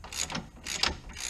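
A ratchet tightens car sway bar end links in two quick bursts of rapid clicking, close and moderately loud, with no talking.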